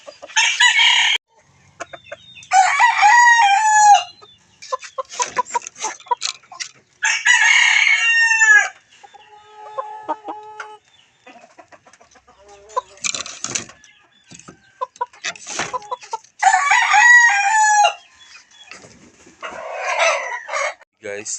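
Loud chickens cackle in repeated bursts, a hen's insistent squawking calls rising and breaking off after laying an egg, with a rooster crowing among them and brief pauses between outbursts.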